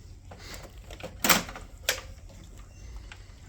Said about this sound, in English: So we're going to approach the printer from the right door assembly and open the access door.